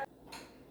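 A lid set onto a cooking pot of fresh tomato sauce, one short metallic clink at the start followed by a faint hiss of the simmering pot.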